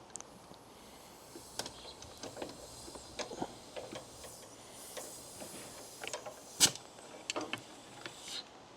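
Faint, irregular mechanical ticking from a car brake vacuum pump with a faulty unbranded vacuum sensor, a quick tapping pattern with sharper clicks standing out, steady over several seconds with no talking.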